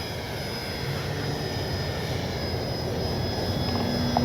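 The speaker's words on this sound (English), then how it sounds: "Let's take off in the grass now." Dynam Beaver V2 radio-controlled model airplane taking off from grass, a steady electric motor whine that rises slightly as it climbs, with no talking.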